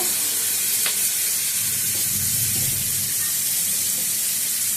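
Whole cumin seeds sizzle in hot oil as the spice base for a Bengali fish-oil cabbage dish, giving a steady, close, bright frying hiss that carries on unbroken.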